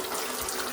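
Tap water running steadily to rinse a student accommodation room after scrubbing, a continuous close gushing hiss with no break and no talking.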